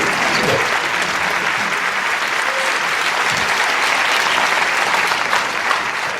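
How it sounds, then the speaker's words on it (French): Sustained applause from a theatre audience at a magic show, dense and steady throughout with a faint crowd murmur underneath. "on peut l'applaudir"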